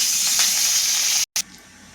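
Curry leaves hit hot oil already holding mustard seeds, cumin and asafoetida for masala khichdi, giving a loud, steady, close sizzling hiss that cuts out briefly, then returns softer.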